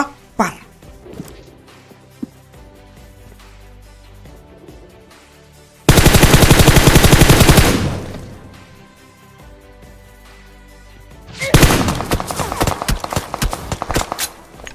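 Two loud bursts of rapid automatic gunfire from a hill above, the first a sustained rattle and the second more broken, over quieter game sounds and a speaking voice, in a multiplayer shooter game.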